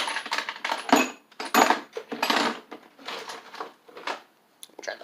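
Metal sockets clink, rattle and scrape in an irregular series of bursts as someone rummages through them close by, hunting for one to fit a bolt on a Snapper Hi-Vac mower.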